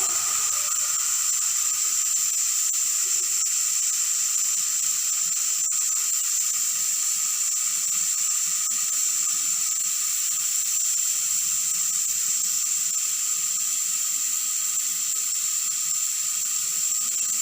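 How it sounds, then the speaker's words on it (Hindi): Laboratory autoclave sterilizing glassware and culture media, a constant high-pitched whistle with steady steam hiss like a pressure cooker, loud and unbroken throughout. "ये प्रेशर कुकर की तरह विसल दे रहा है"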